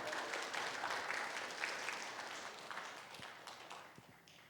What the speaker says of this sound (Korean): 우리 안나인 전사 박수 한번 쳐줘야 돼요